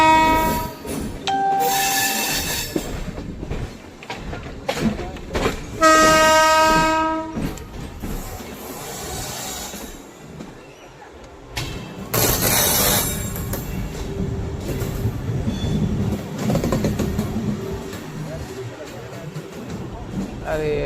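A goods train rolls past on the rails with loud horn blasts and steady wheel clatter, heard from alongside the Swaraj Express near Kurukshetra Junction; faint voices come and go.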